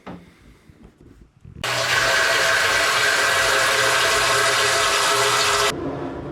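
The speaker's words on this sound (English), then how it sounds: "I'm going to go ahead and start filling up my hot water tank" Water gushes hard into a hot water tank for brewing a summer ale, a loud steady rush that starts abruptly after a quiet stretch and cuts off near the end.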